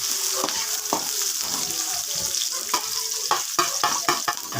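Onions sizzle in a pan for adobo sa gata, a steady frying hiss broken by the clatter and scrape of stirring, all close by and without speech.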